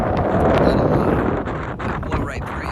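Strong wind on a hike down to the Moonhouse ruin buffets the microphone with rumbling gusts throughout, loud and close, with rustling layered on top.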